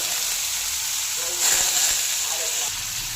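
Fish hitting hot oil tempered with mustard seeds, whole cumin and curry leaves, giving a steady, close, bright sizzling hiss that swells louder for about a second midway, then settles back to a constant fry.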